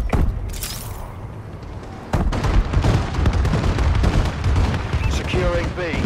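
Explosions from a friendly bombing run in the video game Call of Duty: Advanced Warfare, dense booming blasts and gunfire rumbling continuously, with a heavy hit partway through and sustained loud battle noise afterward.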